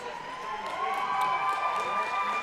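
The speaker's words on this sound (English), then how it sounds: "Grandview crowd has given their team a round of applause" A crowd in a rink cheers and applauds at a high school hockey game between Grandview and Valor, a steady rising roar with talk layered over it.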